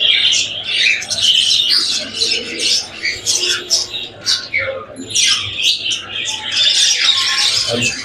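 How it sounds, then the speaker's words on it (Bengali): Australian running doves in a crowded enclosure keep up busy, overlapping chirps and squawks close by for the whole stretch, with a low background murmur beneath. "এই যে এই ঘুঘুটা এখন মালসায় বসতেছে"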